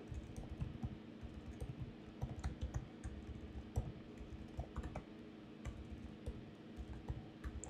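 Typing on a computer keyboard while writing code, a close, quiet, uneven run of clicking keystrokes in short bursts and pauses with no talk.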